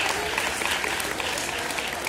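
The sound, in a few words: audience applause at school prize ceremony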